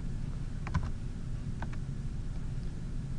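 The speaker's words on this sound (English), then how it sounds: "use my tab key or my arrow keys on my keyboard" Quiet keystrokes on a computer keyboard, a few isolated clicks and taps at a steady, unhurried pace over a faint background hiss.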